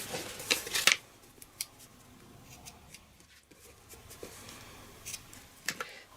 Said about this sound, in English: Trim this down a bit because it's too long.